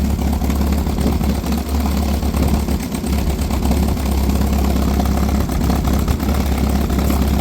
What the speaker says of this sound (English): sorry about the tractor noise